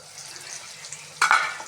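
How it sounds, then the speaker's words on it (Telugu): Vegetable pieces with salt being stirred in a pan while making upma, a low sizzle followed by one short, sharp scrape and clatter of a spoon near the end. "ఇలా వేసుకొని కలిదిప్పుకోవాలి"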